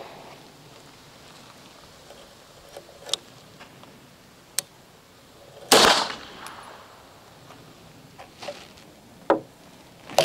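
Distant 9mm pistol shots firing Federal 115gr FMJ round nose ammunition at an outdoor range, several sparse sharp cracks spaced irregularly, one louder report in the middle over a quiet background.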